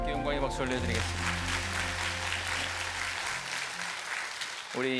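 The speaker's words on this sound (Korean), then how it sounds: "영광의 박수 올려드리겠습니다." Church congregation applauding during a baptism celebration in a Baptist service, a dense, sustained wash of clapping filling the room, with a voice speaking and a sustained musical tone beneath it before fading at the end.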